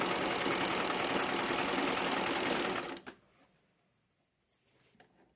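A sewing machine stitches the pleats of a child's saree made from a flowered saree. It runs in a fast, steady, loud whir for about three seconds, then stops abruptly, leaving faint handling clicks.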